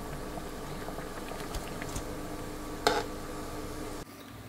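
Water boiling in a pot while cooking kare-kare vegetables, a steady low bubbling rumble with a brief clatter near the end.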